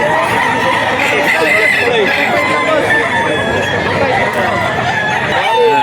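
Black Spartan gamecock with a straight comb crowing among other fowl at a rooster seller's yard in Bocaue, Bulacan, loud and near, with overlapping crows and clucks and someone talking throughout.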